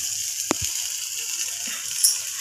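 Water poured into frying masala for a paneer dish gives a steady broad hiss and sizzle, with a couple of brief clinks near the start and a sharper hiss flare later.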